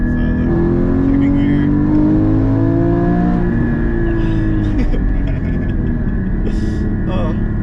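Porsche GT4 engine pulling hard through a long second gear, a loud, steady rising drone with climbing harmonics that levels off, heard from inside the car with talk over it.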